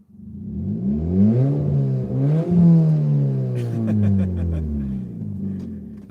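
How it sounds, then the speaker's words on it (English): An Iron Van's engine revs in several throaty rises and falls close by, its deep exhaust rumble holding steady between pulls, with a brief clattering toward the end. "So you want to hear how throaty it sounds?"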